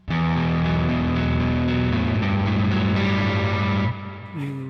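An electric guitar through a clean amp-sim preset plays a short run of sustained notes, ringing with light effects before stopping abruptly, then a faint final note.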